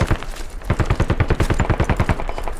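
Rapid automatic gunfire from the video game Squad, a loud close burst of evenly spaced shots that keeps going with no break and no voices over it.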